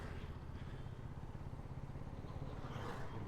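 A 2025 KTM Duke 250 motorcycle engine runs with a low, steady rumble, close by and fairly even, without clear sharp revs.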